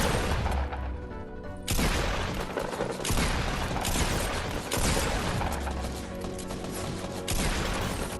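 Loud, dense bursts of gunfire from Fortnite, with heavy blasts arriving in clusters every second or two amid crashing battle noise and no speech.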